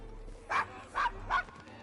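Three evenly spaced, close barks from a dog in Assassin's Creed Syndicate, set in the Devil's Acre, over a low ambient hum.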